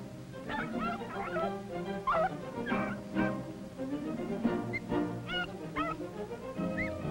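Hunting dogs bark and yip steadily while chasing a cottontail rabbit through cover, a pack of overlapping barks and whimpers, moderately near, with no voices.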